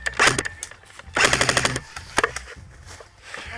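Airsoft guns fire during an airsoft game: quick bursts of sharp, rapid clicking shots, one short volley, then a longer rattling string, then a few scattered single pops, fairly close against quiet outdoor ambience.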